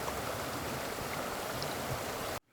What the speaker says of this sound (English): watching how water flows in a river